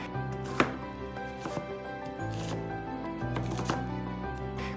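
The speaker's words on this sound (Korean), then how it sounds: "그리고 양파 2분의 1개 잘게 다져줍니다." A knife finely chopping half an onion on a cutting board for mapo tofu, quick irregular taps rising over a steady background hum, fairly quiet and close.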